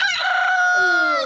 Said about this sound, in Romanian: avem cocoși? Da, avem.